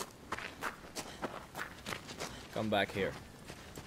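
Horse hooves thud in a steady, quick rhythm as a horse moves through Shadow of the Colossus, moderately close, with a brief spoken line breaking in near the end.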